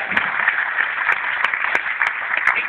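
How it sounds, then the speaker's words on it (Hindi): An audience claps during a lively talk, a steady wash of applause dotted with a few sharper individual claps, fairly close and without speech. "अभी ताली तो आप रुको, अभी मत बजाओ"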